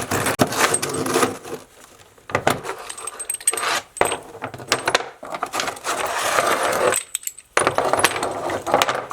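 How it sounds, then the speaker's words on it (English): A small tile being cut from the back with a manual tile cutter: gritty scraping strokes and clattering metal-on-ceramic rattles with short pauses between passes, close and moderately loud, no talking. "Now we just flip the tile over, and we're going to cut from the back."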